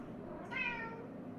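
A single short cat meow, fairly faint and slightly distant, rising out of a quiet room background.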